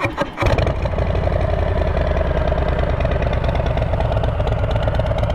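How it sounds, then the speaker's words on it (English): A 2020 Harley-Davidson FXBB motorcycle fitted with a Bassani Sweepers exhaust fires up after a brief crank and settles into a loud, steady, lumpy idle with a throbbing low rumble. "we're gonna fire it up, give a little sound clip"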